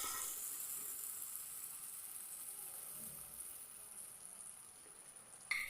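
Neyyappam batter, made without baking soda, frying in hot oil with a steady, even sizzle that holds for several seconds, close and continuous with no talking over it.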